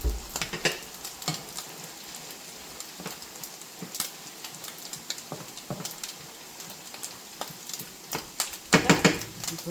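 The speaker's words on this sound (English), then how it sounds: "Let that fry up another little bit now" Garlic frying in a pan for spaghetti sauce, a soft continuous sizzle with scattered ticks and light taps from a utensil, fairly quiet and close with no talking.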